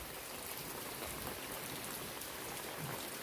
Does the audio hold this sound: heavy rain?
yes